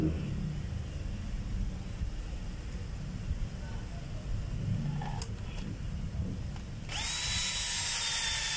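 A power drill drives a screw into a fitted cover in one short, rising whine near the end. Before it there is a low rumbling background with faint clicks and handling noise.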